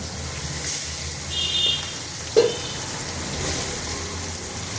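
Chopped onions fry in hot oil for a Katla fish curry, giving a steady, moderate broadband sizzle with one sharp clack midway. No one speaks.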